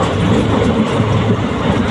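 A passenger train running from Tenkasi to Tirunelveli gives a steady, close rumble with a continuous rolling roar of wheels on track and no pauses.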